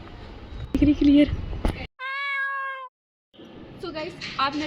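A stray cat met on a roadside gives a single clear, drawn-out meow between bursts of nearby talking and street noise.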